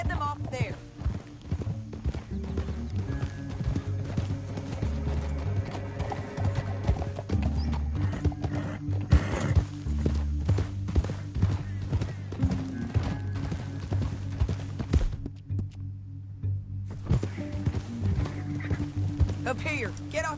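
Horse hooves clip-clop steadily in Red Dead Redemption 2 as riders move through a canyon, with an occasional whinny; the footfalls continue under ongoing game dialogue and a music bed.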